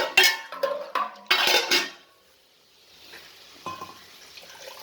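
Water splashes and is poured into a pot of Vidarbha-style dal fry, with clattering pot and utensil knocks in a burst up front, then a quiet stretch and a softer stir near the end.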